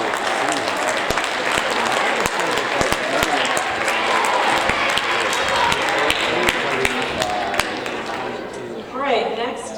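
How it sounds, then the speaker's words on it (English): Audience applause for seventh-grade students at a school awards ceremony, a steady dense wash of clapping lasting throughout with sharp individual claps, and a voice briefly heard near the end. "let's give these students a round of applause"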